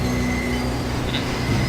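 Train in the video game Deus Ex, a steady rumbling rail hum with a faint high squeal and brief metallic clanks near the end, continuous at moderate level with no talk.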